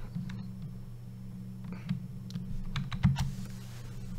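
A file name typed on a computer keyboard, a few scattered soft key clicks over a low steady hum from the room or machine, close and quiet with no speech.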